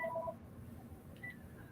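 Phone keypad button tones as a mobile phone is switched off during a talk: a few short beeps at the start, then a faint tone a second later, over quiet room noise.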